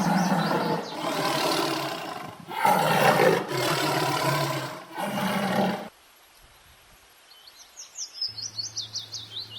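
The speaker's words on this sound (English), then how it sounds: "T for tiger" A tiger roars several times in a row, deep, loud and rough bursts close by, followed by quieter chirping birds and a low hum.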